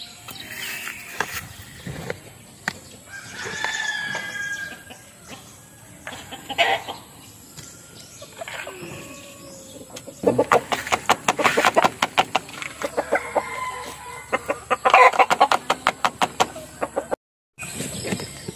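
Backyard chickens cluck steadily throughout, with a rooster crowing among them; the flock sounds close, with dense bursts of clucking and scratching in the second half and no talking.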